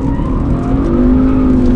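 A BMW M3 accelerates on a race circuit, its engine note loud and close, rising steadily in pitch as it pulls hard, with a brief tire squeal near the end.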